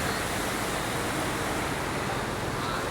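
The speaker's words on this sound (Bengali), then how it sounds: "পুরো রাস্তা তুলে গেছে ঢেউ।" Floodwater churning in waves across a road during heavy rain in Saudi Arabia gives a steady, dense roar of rushing water that stays loud and unbroken throughout, with no voices.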